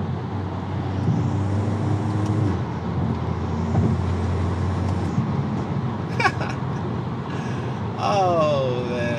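A VW Mk8 Golf R with a custom open air intake and DSG gearbox accelerates hard, its engine note rising and droning close by inside the cabin, with a few brief voice sounds near the end.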